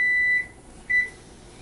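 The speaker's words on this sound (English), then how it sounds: "we will stop the timer" A kitchen timer beeps twice, two short tones with a pause between them, clear and close while chicken is cooking.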